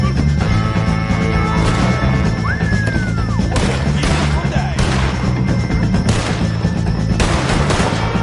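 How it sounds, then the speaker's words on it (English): Gunfire cracks through a shootout against O'Driscolls in the video game Red Dead Redemption 2, with repeated loud close shots in irregular bursts and an occasional whistling ricochet over a steady background. "shoot some of these O'Driscolls!"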